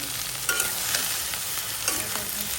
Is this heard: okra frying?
yes